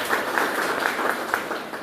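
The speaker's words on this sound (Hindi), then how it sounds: "मैडम के लिए एक जोरदार तालियां हो जाए फिर से" A crowd at an indoor gathering applauds guests being honoured with a cake, a steady wash of clapping that runs the whole time with a few louder individual claps standing out, fairly close and without speech.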